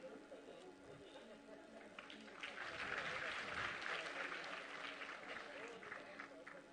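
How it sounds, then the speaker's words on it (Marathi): An audience at a Women's Day portal inauguration applauds the honoured women, a faint crowd clapping that swells midway and carries on at a low level. "जोरदार टाळ्यांचा वर्षाव होत राहू देत मंडळी आपल्या सर्व मान्यवर महिलांसाठी."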